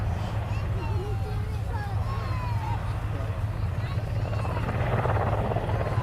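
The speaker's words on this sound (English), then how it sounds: "See now the Apache with a 90-degree nose down and left-hand turn, allowing it to set up towards the right for a pedal turn, 180 degrees." An Army Air Corps Apache attack helicopter flies a display at Cosford Airshow, its rotor thrum steady and loud as it pitches nose down and pedal-turns, while a public-address commentator talks over it.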